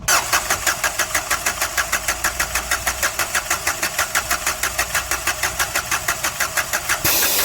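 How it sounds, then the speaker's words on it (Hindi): A car engine in a repair garage cranks steadily with a fast, even rhythmic chug from the starter, repeating throughout at close range before a brief change near the end. "इसी पोजीशन पे सेल्फ लगा के देखते हैं"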